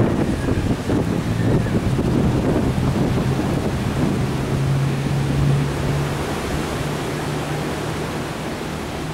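Rough sea in bad weather at Boulogne-sur-Mer, heavy wind buffeting the microphone over a broad roar of waves, loud and constant throughout with no talking.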